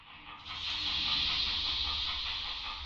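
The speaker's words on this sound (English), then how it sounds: "That's the sound of bulkheads giving way." Ship bulkheads giving way in a video game: a long, loud hissing, rushing roar that swells in after a quieter start and holds steady, with a low rumble underneath and no speech.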